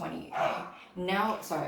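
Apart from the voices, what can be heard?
dog barking in the background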